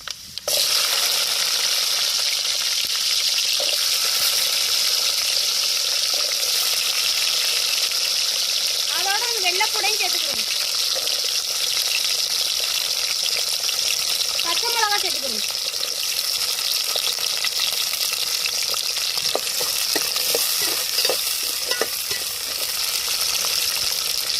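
Shallots, garlic and green chilies fry in a hot pan with fenugreek, a steady loud sizzle running throughout, broken by a couple of brief stirring scrapes.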